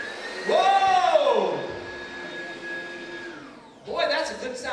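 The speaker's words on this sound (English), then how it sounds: "Boy, that's a good sounding vacuum cleaner, isn't it?" A vacuum cleaner starts up with a rising whine that settles into a steady droning hum, then dips and surges again, loud in a large room with a crowd murmuring faintly.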